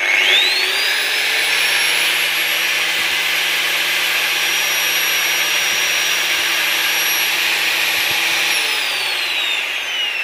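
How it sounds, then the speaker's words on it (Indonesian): An electric angle grinder runs at full speed in a workshop, a loud steady high-pitched whine with a constant motor drone, spinning up at the start and winding down near the end, with no talking. "Langsung gerinda ya."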